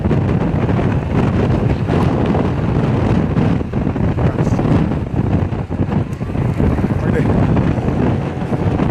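Strong headwind buffeting the microphone while cycling at about 25 miles an hour in a road race, a loud, continuous roaring rumble that fills the whole clip.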